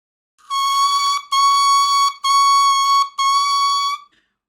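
Oboe notes started by tonguing the reed: four clean, bright sustained tones on the same pitch, each with a crisp attack and a short gap between them, played alone.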